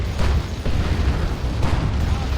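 Explosions and gunfire in the real-time strategy game Warhammer 40,000: Dawn of War 2 during a 3v3 match, a dense, loud, continuous rumble of booms and bursts.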